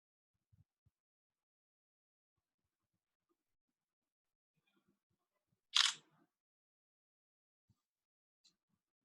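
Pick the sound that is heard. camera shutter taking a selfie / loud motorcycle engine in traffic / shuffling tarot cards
camera shutter taking a selfie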